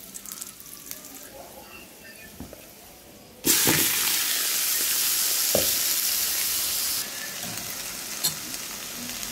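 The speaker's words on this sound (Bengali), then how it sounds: "ভাজা হয়ে গেলে শাকটা দিয়ে দিব।" Onion and garlic hitting hot oil for red amaranth greens, a sudden loud burst of sizzling that settles into a steady fry and then eases to a softer hiss, with a few clinks before and during.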